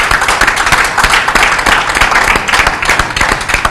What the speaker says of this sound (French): Félicitations, on peut l'applaudir.